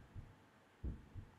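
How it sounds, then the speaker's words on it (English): Heartbeat sound effect in the horror video game Angels of Death: a few faint, low, muffled thumps, one stronger than the others, set against a quiet hum. "Heartbeat noises."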